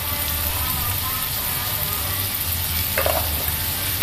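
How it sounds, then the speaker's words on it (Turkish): Tomatoes are stirred into shrimp frying in a pan, with a loud, steady sizzle throughout and a brief scrape of stirring near the end. "Şimdi domateslerimi dahil ediyorum oyuna. Şöyle karıştırıyorum."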